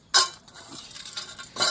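A street vendor mixes jhalmuri with a metal utensil, giving sharp scraping clinks at the start and end with softer rustling stirs between, close and clear.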